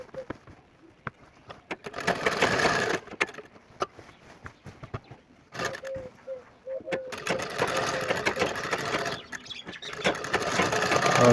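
Sewing machine stitching along the edge of a sherwani pocket opening, running in bursts of rapid mechanical clatter with short pauses and handling clicks between, close and moderately loud.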